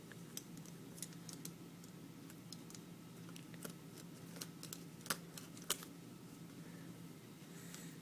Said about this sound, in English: put your knife under here and cut these threads that are right here